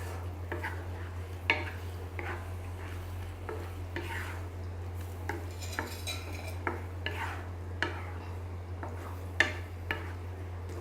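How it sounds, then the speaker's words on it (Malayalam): A spoon stirs bitter gourd pickle with asafoetida in a pan, soft scraping strokes and occasional clinks over a quiet sizzle and a steady low hum. "ഇത് നന്നായി മിക്സ് ചെയ്ത് കൊടുക്കുക."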